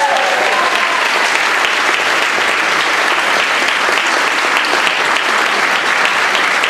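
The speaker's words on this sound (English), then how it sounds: "Round of applause." Loud, dense audience applause rings out at a middle school spring band concert as an outstanding musician award winner is honoured, sustained evenly throughout with no voices over it.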